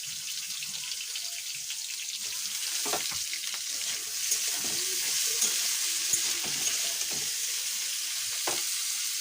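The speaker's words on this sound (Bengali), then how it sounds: "আলু ভাজাটা তুলে দিচ্ছি" Potatoes fry in a pan with a steady, close sizzle and faint stirring scrapes throughout, with no talking.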